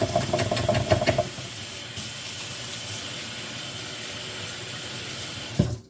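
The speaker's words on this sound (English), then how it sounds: "I'm going to wash my hands really quick in just a moment." Tap water runs steadily into a sink during hand washing, a continuous close hiss with a few clattering knocks at the start and a thump as it cuts off near the end.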